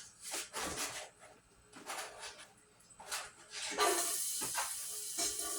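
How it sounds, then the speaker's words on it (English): Onions sweating in a pan on medium to medium-low heat, a steady close sizzle and hiss that swells and fades, with a few soft clatters of stirring. "you're gonna sweat these onions out"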